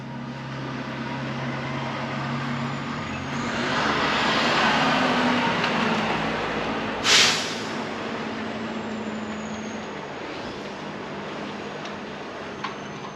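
A big truck rig arriving to collect a 1978 red Harley Shovelhead motorcycle, a loud, steady engine rumble that swells as it draws near and then holds, with a sharp click midway.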